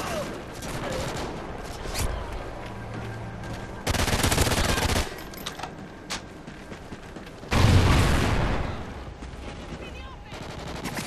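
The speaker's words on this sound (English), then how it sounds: "Friendly Trinity rocket sounding in." Trinity rocket strike in a game battlefield, two loud roaring blasts a few seconds apart that rise suddenly over a steady din of combat noise.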